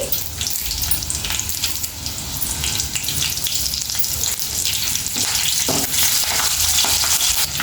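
Green chillies fry in hot oil in a pan while being stirred, giving a steady close sizzle with scraping and stirring noises throughout, made while cooking potato rice.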